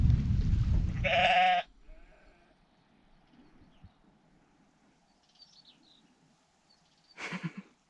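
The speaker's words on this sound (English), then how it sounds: "Two wee lambs." Two young lambs bleat on a Scottish island farm, one loud close bleat at the start and another shorter bleat near the end, with quiet countryside ambience between.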